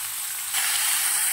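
Onions sizzle in a pan with salt and turmeric, a loud close frying hiss that jumps louder midway through the brief moment.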